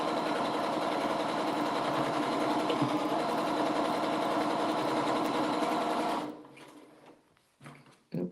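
Domestic sewing machine stitching quilt block seams together, a loud, steady whirring run close by that stops abruptly, followed by faint handling sounds.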